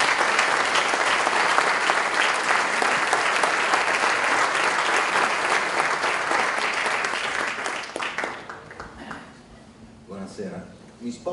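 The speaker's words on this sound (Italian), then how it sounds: "vorrei che lo accoglieste con un grandissimo applauso" Sustained applause from a seated audience welcomes a speaker at an Italian talk with a photographer, loud and dense for about eight seconds before thinning into scattered claps and low murmuring.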